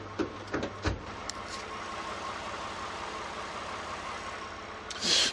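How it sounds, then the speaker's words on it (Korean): A Lexus RX 350 premium SUV engine idling with the hood closed, a quiet, smooth and steady low hum, with a few soft knocks or clicks near the start and a brief rustle at the end. "이 정도의 엔진 소음"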